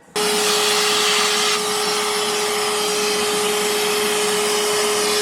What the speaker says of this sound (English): Let's get the hoover going.